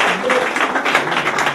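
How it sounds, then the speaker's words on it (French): Guests at a customary wedding in Kinshasa applaud in a short, loud burst of crowd clapping that pulses unevenly and then tapers off briefly. "nous pouvons les applaudir une fois de plus"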